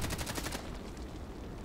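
Rapid automatic gunfire in a video game sniper match, a dense rattling burst for about half a second that gives way to a steady rumble of in-game noise.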